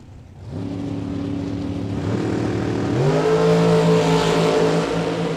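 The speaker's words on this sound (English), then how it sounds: "Dragster left side, 471 the dial for LaBouse" Drag racing cars at a bracket race idle and rumble, then the engines rise in pitch as they rev up and launch, a loud, sustained roar building toward the end.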